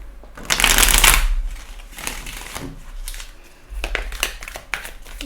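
Oracle cards being shuffled for a tarot reading, heard close in two loud riffling bursts with softer shuffling and tapping between them, and no talking.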